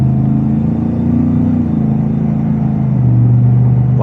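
A supercharged Ford F-150 Black Widow pickup rumbles loud and close with a deep, steady engine drone that swells slightly in pitch as it revs.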